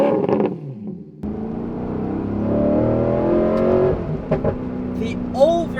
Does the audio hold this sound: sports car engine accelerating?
yes